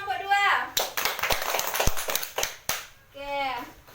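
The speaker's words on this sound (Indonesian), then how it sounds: "Tepuk tangan untuk kelompok 2." Children in a classroom clap for a presenting group in a quick, busy round of applause, with young voices heard just before and right after.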